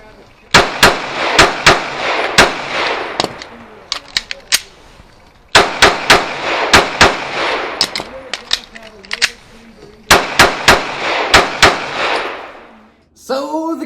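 A Canik Taran Tactical Combat Edition 9mm pistol fires three rapid strings of sharp, loud shots, each volley of several cracks ringing out with reverberant tails and short pauses between.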